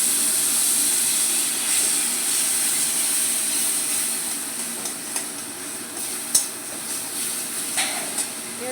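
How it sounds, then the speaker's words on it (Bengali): Onion and garlic paste fries in hot oil in a wok for a fish curry, giving a steady, even sizzle and hiss throughout with a few small pops and clicks near the end. "এবার আমি কড়াইয়ের তেলে প্রথমে পেঁয়াজ রসুন বাটাটা দিয়ে দেব।"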